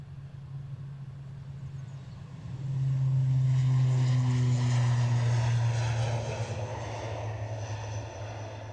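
An airliner climbing away after takeoff from Edinburgh Airport, a low engine drone that swells to a strong roar midway and then eases as it recedes into the distance.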